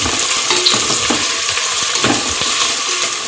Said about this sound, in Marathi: कांदा व्यवस्थित भाजून घ्यायचा आहे.